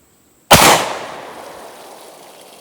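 A single sharp gunshot fires an ARX Inceptor bullet into water jugs, a loud close crack after a moment of quiet, trailing off in a long fading echo.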